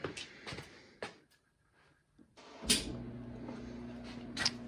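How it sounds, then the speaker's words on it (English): A clothes dryer being serviced for a no-heat fault has its door pushed shut with a few sharp knocks and a firm thud, followed by a low steady hum and a couple of quick clicks. "So we're going to close the door,"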